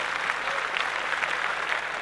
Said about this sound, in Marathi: ग्रुपसाठी जोरदार टाळ्या वाजवूया